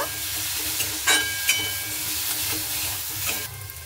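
Drumstick leaves being stirred with chili powder in a hot pan, a steady sizzle and hiss with a few scraping strokes of the spatula standing out, close and moderately loud with no talking.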